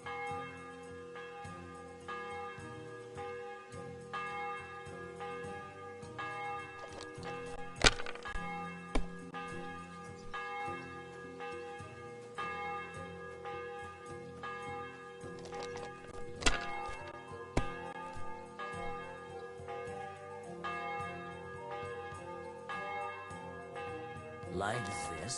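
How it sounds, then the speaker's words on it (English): In the medieval video game Kingdom Come, a church bell rings a few distinct struck tolls that ring out over a steady bed of game music and ambience, the strikes spaced far apart and moderately loud. "Bell's ringing for Hans the fifth time."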